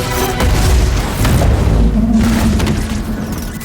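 An animated crystal explosion gives a heavy, booming roar that swells twice over several seconds, loud and close with rumbling debris beneath and no voices.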